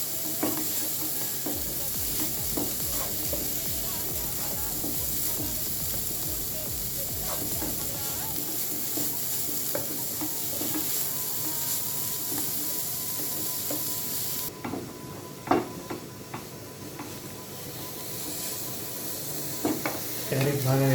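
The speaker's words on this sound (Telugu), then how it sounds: "ఇది బాగా కలుపుతూ ఫ్రై చేసుకుంటూ ఉండాలి." Grated carrot frying in a pan for carrot halwa while being stirred, with a steady sizzle and repeated scraping strokes of a spoon running throughout; no one speaks.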